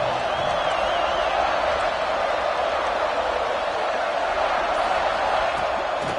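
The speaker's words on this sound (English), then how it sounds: "Listen to the crowd energy here in the early going." A stadium crowd at a football game produces a steady, broad roar of cheering and voices, constant and fairly loud without distinct peaks.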